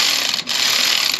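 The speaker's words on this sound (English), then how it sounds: "Ratchet coming in. Spin that down some." A ratchet spins a bolt down on a Honda CR-V 2.4 in a repair shop, a steady close-up run of fine rapid clicking with a brief pause partway through.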